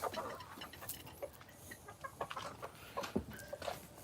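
Farmyard chickens cluck softly at a distance in short, irregular bursts, faint and scattered against background noise.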